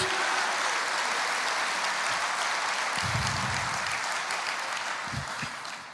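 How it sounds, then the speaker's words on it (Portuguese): A church congregation applauds together in a sustained, dense wash of clapping that fills the room evenly and tapers off slightly at the end, with a few low thumps mixed in. "Aplauda o Senhor"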